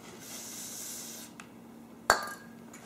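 Spray cleaner hisses into the small passageways of a lawn mower part from a mower that runs and dies: a steady close hiss for over a second, a brief pause, then a sharp click and short burst.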